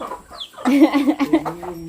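Ducks penned on a farm give a quick burst of harsh, nasal calls close by, several overlapping squawks after a short quiet moment.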